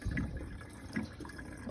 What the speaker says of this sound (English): So we add in our 4 gallons of antifreeze.